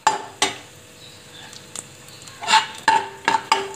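Cashews fry in ghee in a pan for rava kesari, a soft sizzle beneath sharp, intermittent clinks and scrapes of a spoon stirring against the metal pan.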